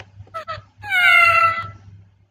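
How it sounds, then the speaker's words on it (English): A cat meow plays from a tap in a mobile app: two short chirpy mews followed by one long, loud drawn-out meow, with a faint low hum underneath. "it makes the cat sound."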